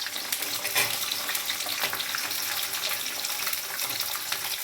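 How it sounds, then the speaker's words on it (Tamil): Onions, curry leaves and garlic sauté in a hot pan with a steady, dense sizzle and crackle. Occasional scraping stir strokes come close up, and no voices are heard. "கருவேப்பிலை, பூண்டு நல்லா வதக்கணுங்க."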